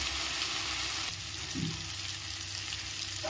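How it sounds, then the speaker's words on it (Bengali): Frying masala in a pan gives a steady, dense sizzle throughout, with a brief softer disturbance partway through as water is poured in, close and continuous with no talk. "এখন পরিমাণ মতন জল দিয়ে দেব"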